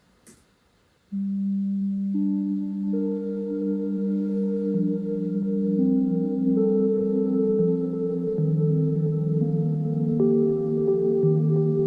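Arturia Pigments synth with arpeggiator, delay and reverb, a soft onset click followed by a sustained, layered pad with notes stacking and shifting gradually in a dreamy, continuous wash.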